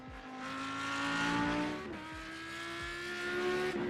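Audi GT3 race car in the iRacing sim heard from outside at Okayama, a loud sustained engine howl with steady revs, a brief lift and shift near the middle, then climbing again.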